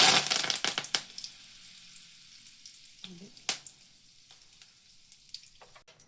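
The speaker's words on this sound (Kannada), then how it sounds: "ನೋಡಿ ಫ್ರೆಂಡ್ ಈಗ ಒಗ್ಗರಣೆ ಕೊಡ್ತಾ ಇದ್ದೀವಿ" Oggarane tempering with curry leaves and spices crackling in hot oil, a loud burst of sizzle and sharp pops at first that fades to scattered crackles, with a few clinks nearby.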